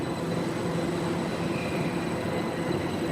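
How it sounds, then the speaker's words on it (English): A steady, dense rumble of a train leaving London Liverpool Street station with a faint tonal whine on top, constant in level throughout, heard from nearby. "I hear another train leaving on the other side."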